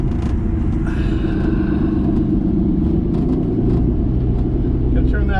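A 1959 Plymouth Suburban Custom station wagon's Mopar flathead engine idles fast with a stuck throttle, a steady close low rumble throughout, running alone with no talk.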